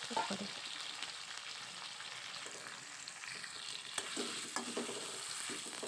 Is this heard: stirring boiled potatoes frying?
yes